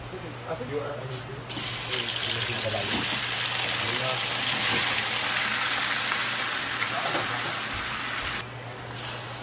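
Chicken hits a hot pan with garlic and onion and sizzles loudly in a steady hissing wash for several seconds, close and constant, with faint voices in the background.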